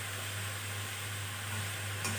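Onion, ginger and garlic frying in oil give a soft, continuous sizzle under a low steady hum, faint and close, with no distinct stirring strokes and no talking.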